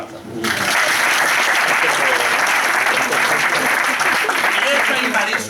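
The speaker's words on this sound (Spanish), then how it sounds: "Un aplauso" Dense, steady applause from a live audience at a talk, starting abruptly and continuing loud and sustained throughout.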